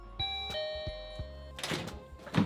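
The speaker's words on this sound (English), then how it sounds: "That's the sound of a working doorbell." An electronic doorbell, just fitted with a new battery, chimes several times, bright ringing tones with a few soft thunks, followed by rustling handling noise close by.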